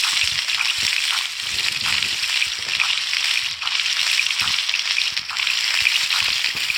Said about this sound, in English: Now let's go here and let's fry these corn